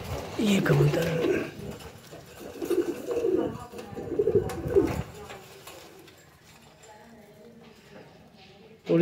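Low throaty cooing from fancy breeding pigeons rises and falls in soft repeated bursts, close by, fading to quieter rustling toward the end.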